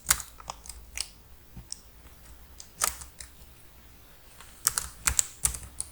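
Computer keyboard typing for a short word, scattered clicky keystrokes in small bursts with pauses between, close and fairly quiet, no talk.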